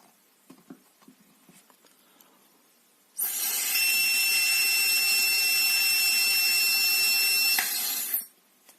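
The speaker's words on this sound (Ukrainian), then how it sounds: "Подуємо тепер волкотестер нормально." Steady breath blown into an Alcofor-105 driver's breathalyzer during analysis, a loud continuous airy rush with a faint steady tone, lasting about five seconds after quiet handling noises, then cutting off.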